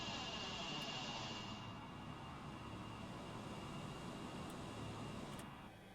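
Jet engine roar of a DC-9 airliner in a flight simulator, steady and loud, easing slightly as the throttles come back to idle, with a broadband rumble and a high whine that drops away early on.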